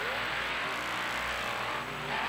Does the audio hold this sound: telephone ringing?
no